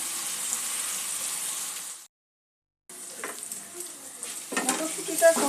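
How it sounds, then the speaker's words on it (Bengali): Peas fry with spices in a pan, giving a bright continuous sizzle, then a short silent break before the sizzle resumes with spoon scrapes and clinks, louder near the end. "2-1 মিনিট মটরশুঁটিটা মশলার সঙ্গে কষে নেব।"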